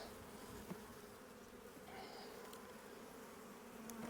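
Steady buzzing of many honey bees close by on a hive frame during an inspection, a dense continuous drone with occasional louder individual bees passing.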